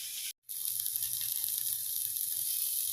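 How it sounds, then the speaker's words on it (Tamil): Green peas and potatoes sautéing in a pan, a constant, even sizzle that cuts out briefly near the start, then carries on steadily at moderate loudness with no voices. "இப்போது பட்டாணி உருளைக்கிழங்கெல்லாம் வதங்கிட்டு இருக்கிற டயத்தில்"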